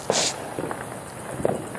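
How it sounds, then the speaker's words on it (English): Fireworks go off outdoors at night, with a few sharp distant pops and crackles over a steady background hiss. "And just lighting off some fireworks."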